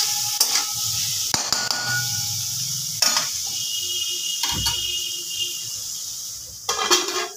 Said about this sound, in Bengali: একবার ঢাকাটা খুললাম, একটুখানি নাড়াচাড়া করে দিই।